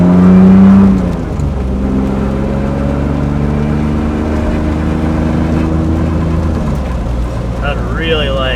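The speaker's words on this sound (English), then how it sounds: "I like how eventually it just reaches a wheel speed that no longer makes noise," A BMW E36 is driven with a tire rubbing, giving a steady droning road and engine hum inside the car with a rhythmic scraping tone that fades as speed builds; a voice is heard at the end.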